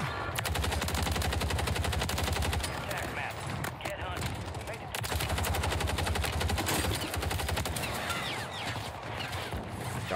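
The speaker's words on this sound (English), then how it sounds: "I'm getting shot from the lighthouse" Rapid automatic gunfire from a Call of Duty match on Rebirth Island, dense continuous bursts close and loud for most of the stretch, briefly easing before resuming, with a voice speaking over it.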